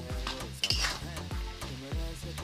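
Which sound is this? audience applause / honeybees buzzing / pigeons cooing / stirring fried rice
stirring fried rice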